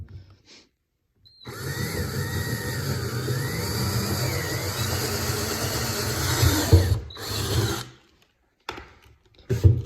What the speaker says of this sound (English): take a large drill bit and drill a hole.